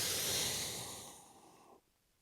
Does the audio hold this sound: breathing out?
yes